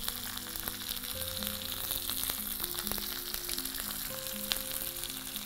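Urad dal, chana dal and green chilies fry steadily in hot oil, a continuous close sizzle with faint stirring clinks; a voice talks briefly over it.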